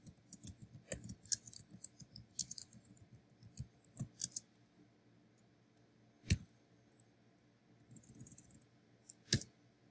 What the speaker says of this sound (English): Hold down Control and Shift and then push S on your keyboard.